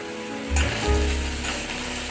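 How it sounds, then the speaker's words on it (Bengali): Steady sizzle of ginger frying with a scrape of stirring near the start, close and continuous, no voices. "আদাটা যে একটু নাড়াচাড়া করে ভাজা ভাজা হয়ে আসবে"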